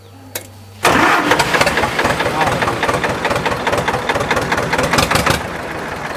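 An Escorts 355 tractor engine cranks briefly and then catches, settling into a loud, close, steady diesel idle with a rapid rhythmic chug throughout.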